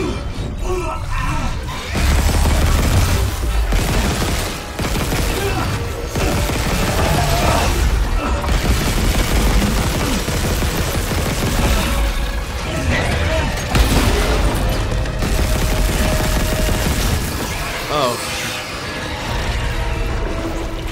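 Heavy gunfire and booming impacts in Dead Space on PS5, loud bursts of shots and crashes packed across a long frantic fight, with a player's voice speaking in places.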